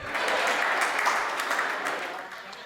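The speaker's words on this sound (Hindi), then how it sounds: "आपकी तालियां तो अब आएंगी" Audience applause at a Hindi kavi sammelan poetry recital: dense, sustained clapping from a large crowd, loud and continuous, tapering slightly toward the end.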